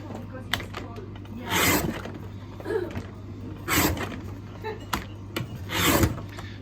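Red rubber stamps are cut out of a sheet in a few rasping, scraping strokes at close range, separated by quieter pauses over a low background hum.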